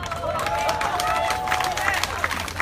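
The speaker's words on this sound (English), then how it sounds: "give a round of applause to our friends over there in Padang Merbok" An outdoor crowd at a counter-rally claps and cheers in a dense, continuous wash of applause mixed with chatter, lasting a few seconds.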